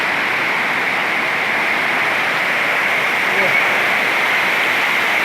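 Water rushing over the overflowing Huai Saneng stream in Surin, a loud, steady broadband roar heard close and unbroken for a few seconds.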